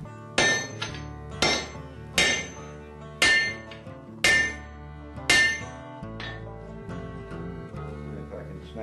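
Hammer blows on a hot cut chisel against forged tool steel, six loud ringing metallic strikes at roughly one-second intervals followed by lighter clinks.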